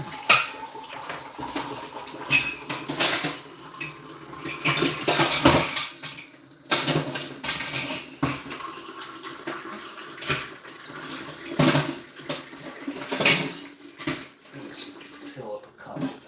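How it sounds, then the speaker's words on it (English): Dishes and cutlery are washed in a kitchen sink under running water, with steady clattering of plates, pots and utensils against the tap's flow throughout, close and fairly loud. "Sink's all clean, all the dishes are clean."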